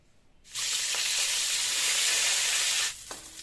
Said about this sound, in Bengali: এই তেলের মধ্যে একটু সামান্য তেল দিয়ে ফুলকপিগুলো ভেজে নেব।